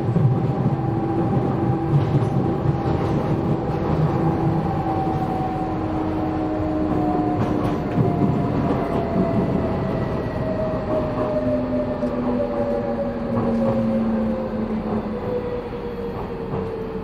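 DLR light rail train running on the wrong line during a service disruption, towards Elverson Road, Cutty Sark and Maritime Greenwich, heard from inside as a loud continuous rumble with rising and falling motor whine and faint wheel clatter, no voices.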